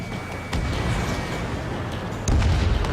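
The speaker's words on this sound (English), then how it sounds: "Bomber hit by a missile. Mage 2, missile away." In the Ace Combat 7 video game, a missile launches and explodes during an air battle over a harbor under heavy fire, producing heavy booming blasts that swell sharply at two points amid a constant roaring rumble.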